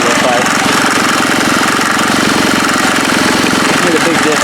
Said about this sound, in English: There's also a lot of loose stuff on it, as you can hear.